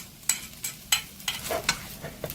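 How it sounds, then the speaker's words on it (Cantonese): Seafood fried rice with egg being tossed in a wok with a metal spatula, sharp scraping clanks arriving every fraction of a second over a low sizzle, close and alone. "用鑊鏟將佢兜勻"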